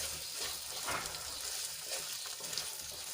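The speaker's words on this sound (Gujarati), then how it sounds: "ચોળીને આપણે થોડી વાર માટે તેલમાં સાંતળી લઈશું એકાદ મિનિટ માટે" Cowpeas sautéing in hot oil with ginger, garlic and chillies give a soft, even sizzle with light stirring, quiet and close, no voices over it.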